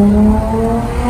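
A car engine drones with a steady, loud low hum while driving slowly through town, its pitch holding nearly level over the brief stretch with faint tire noise underneath and no voices.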